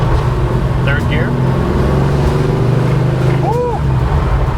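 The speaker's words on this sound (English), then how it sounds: "the exhaust reverberating off the cars as we pass by them" A 1973 Plymouth Duster with an American V8 drives loud and steady in third gear, its exhaust rumble continuous and close with reflections as it passes other cars, while people talk over it.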